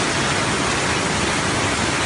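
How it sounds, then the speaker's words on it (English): Heavy rain and hail pour down during street flooding in Izmir, Turkey, as a dense, continuous, loud hiss with no break and no voices. "rain and hail caused severe flooding across parts of Izmir, Turkey on Wednesday, May 20th, sweeping away multiple vehicles"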